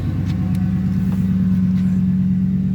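A 2007 Mercury Grand Marquis with a newly upgraded mass airflow sensor idles steadily, its low, even engine hum loud and close throughout.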